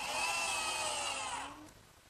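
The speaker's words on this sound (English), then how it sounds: "just fasten it with the screws." A power drill whirs loudly and steadily while driving screws into a hard oak face frame of a medicine cabinet, then winds down and fades within about two seconds.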